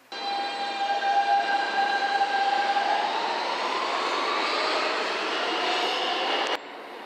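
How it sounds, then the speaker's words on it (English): A New York subway train running through a station, loud steady rumble with a high metallic wheel squeal that slides upward and fades as the car rolls on, ending in a sudden drop. "I always take the train to 4th Avenue and 9th Street"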